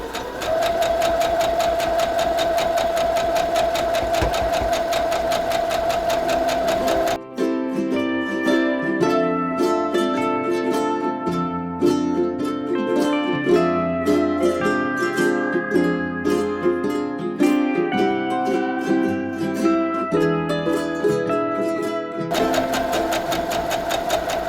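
Home sewing machine stitching a border onto a fall quilt table runner, a steady mechanical whir with rapid needle rhythm running continuously for most of the span, close and loud.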